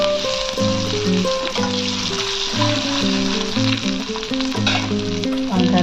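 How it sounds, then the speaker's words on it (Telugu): Eggplant curry mixture frying and being stirred in a pan, a steady sizzle sitting under loud, continuous melodic background music. "మెల్లిగా మిక్స్ చేసుకోవాలి."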